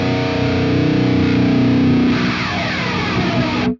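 Electric guitar played through a Quad Cortex with low gain and the master turned up, a loud, sustained distorted chord ringing steadily before cutting off abruptly at the end.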